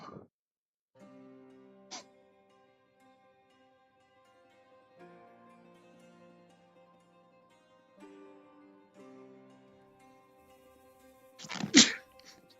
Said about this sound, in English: I love it when I get a good sneeze, comes out of nowhere.